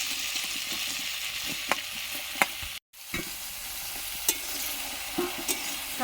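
Pointed gourd pieces fry with prawns and spices in a hot pan, giving a continuous crackling sizzle with repeated clinks and scrapes of stirring and one brief pause.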